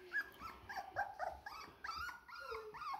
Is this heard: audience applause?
no